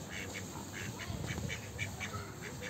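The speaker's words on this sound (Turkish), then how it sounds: "Ördekler burada var." Ducks at a zoo in Ankara quack in short repeated bursts at moderate distance, with low rumbling background noise and no clear speech.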